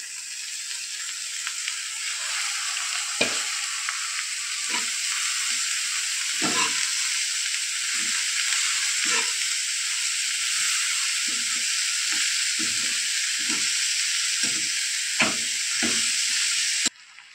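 Chopped cabbage and coriander leaves frying in a pan for a gram-flour cabbage dish, a steady broadband sizzle with repeated short scrapes and knocks of stirring, close and continuous.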